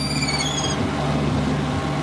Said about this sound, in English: the seagulls are trying to get down here and grab some of these